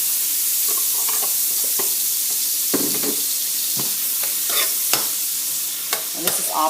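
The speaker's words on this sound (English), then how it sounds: "I'm going to let this saute for maybe about a minute" Onions saute with lily butter in a hot pan, giving a steady close sizzle. Scattered stirring scrapes and soft knocks sit on top, and no one speaks.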